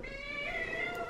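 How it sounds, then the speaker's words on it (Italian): A female cat meows indoors, one drawn-out, wavering, fairly soft meow from close by with no talk over it. "Gatta Stellings oggi è più loquace del solito"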